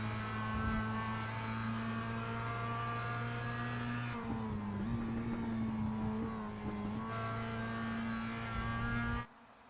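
Race cars battling for the lead at Road America in a CiL Challenge Series race, several engines droning and revving close together with steady pitch shifts, loud and continuous until cutting off abruptly near the end.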